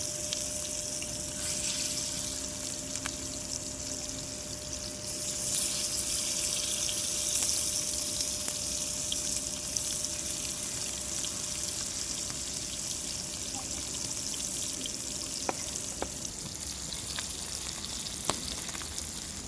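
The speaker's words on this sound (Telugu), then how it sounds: "వీటిని మధ్య మధ్యలో తిప్పుతూ ఫ్రై చేసేసుకోవాలి." Pieces of fish fry in shallow oil in a village kitchen, a continuous crackling sizzle that swells stronger partway through, close and steady with occasional sharper pops.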